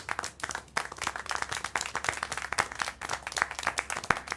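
Clapping in the video game Syberia: The World Before, a run of distinct, fairly quick hand claps that continue steadily, with a sharper, louder clap near the end.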